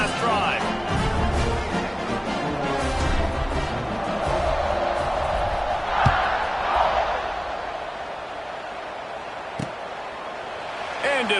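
A football stadium crowd roars and cheers at an Alabama versus Auburn game, a dense wash of voices rising and falling with a few sharp thuds, while a commentator talks over it.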